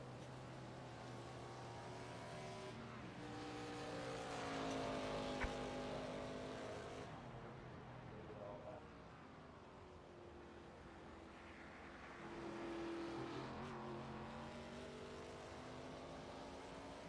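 Race cars in an ARCA series racing game at Watkins Glen, engines droning with steady, shifting tones as cars run down pit road, one car swelling louder as it passes, no talk.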